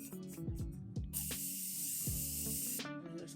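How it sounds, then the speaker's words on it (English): Morphe Continuous Prep and Set Mist sprays in one long, close, bright hiss lasting under two seconds, between light handling clicks and knocks. "I'm gonna grab my Morphe Continuous Prep and Set Mist."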